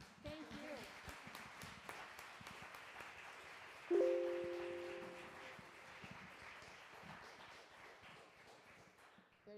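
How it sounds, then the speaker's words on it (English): Applause at a bilingual-education school event, fairly faint scattered clapping spread across several seconds, with a sudden brief tone partway through and voices talking underneath. "we give you a big clap"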